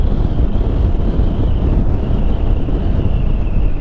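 Wind roars across a microphone on a KTM 390 Adventure motorcycle riding off-road near Hampi, a dense, steady buffeting rumble with no voices.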